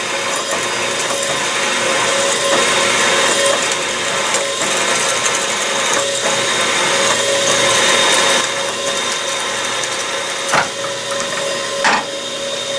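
A steady mechanical whirring grind of a drill bit working through metal on a toolmaker's clamp, loud and close, with a couple of sharp clicks near the end as it breaks through.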